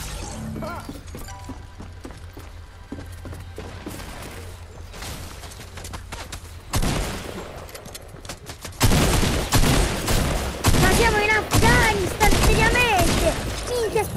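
Gunfire in Fortnite: a battle soundscape that turns into a loud, dense volley of rapid shots in the second half, with scattered earlier bursts and people talking over the action.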